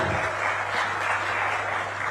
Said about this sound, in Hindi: अब तालियां बजती रहें।